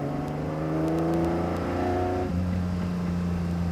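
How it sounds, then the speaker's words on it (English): A smooth Ferrari engine revs up with aggressive steady harmonic tones, then drops to a lower pitch as the throttle eases back, loud and close with no talk. "The engine is so smooth that although it sounds aggressive, it's actually very docile."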